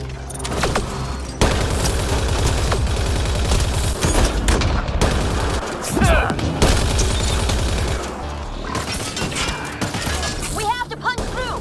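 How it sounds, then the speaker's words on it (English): Gunfire in Mass Effect: Andromeda, with rapid automatic bursts, booming impacts and mechanical clatter across a busy battle. Voices are heard under the shooting. "Don't worry, I'll shoot whatever needs shooting."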